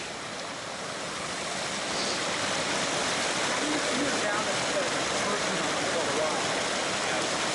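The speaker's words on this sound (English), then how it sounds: "Oh, this is Bear Creek." Bear Creek on the Colorado Trail rushes in a loud, steady broadband roar of flowing water close by, with people talking over it.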